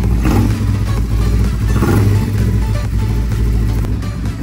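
A Kawasaki Ninja 250 Fi motorcycle engine with a suspected exhaust leak runs close by, a steady rough idle with a faint irregular clatter, loud and continuous with no talking.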